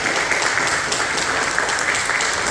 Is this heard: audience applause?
yes